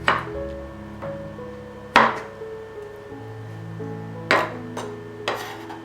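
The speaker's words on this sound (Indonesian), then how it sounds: "Potong wortel bentuk kotak kecil-kecil seperti ini saya samakan dengan besarnya potongan jamur merang tadi" Knife chopping boiled carrots into small cubes on a cutting board, a handful of sharp, separate knocks spaced a second or two apart over faint kitchen background tones.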